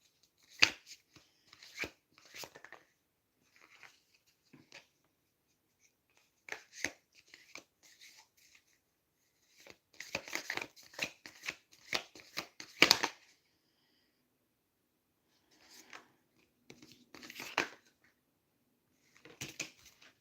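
A deck of cards shuffled by hand during a spiritual card reading, with repeated brisk riffling and snapping bursts, close and clear, separated by short pauses and with no talking.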